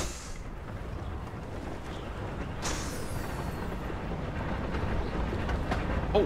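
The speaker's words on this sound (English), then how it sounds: "Oh, the train." Low, broad rumble of a train passing through the Hogwarts Legacy game world, building steadily over several seconds alongside faint rushing noise, with no talking.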